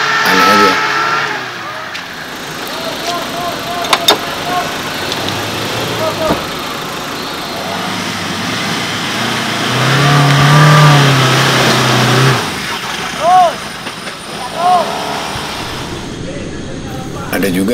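Off-road car on a muddy forest trail during an expedition in Meratus, its engine idling and then revving hard in surges, loud and close, with people talking over it.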